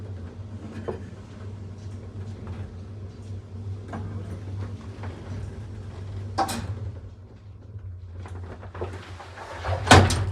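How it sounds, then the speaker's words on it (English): A 1950 elevator door in a Madrid apartment building clicks and rattles, with a louder clunk near the end over a steady low motor hum and faint ticking. "I think it opens the door up. It like pops it."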